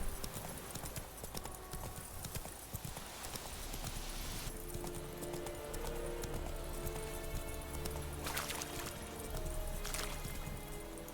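Hooves clip-clop steadily as a horse is ridden in The Witcher 3, a continuous rhythmic trotting close up over game ambience and music.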